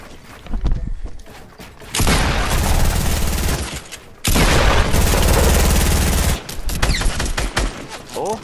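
Bursts of automatic gunfire in Fortnite, several loud sustained volleys separated by brief pauses, close and harsh, with scattered footsteps between them.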